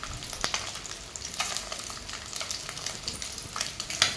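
Eggs frying in hot oil in a pan give a steady, close sizzle with crackling pops and brief scraping knocks of a spatula throughout, with no voices.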